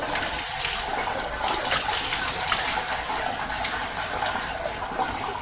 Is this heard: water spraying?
yes